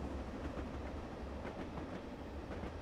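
A steam rail bus runs in a train video game, giving a steady low rumble with rhythmic clickety-clack from the wheels that continues throughout.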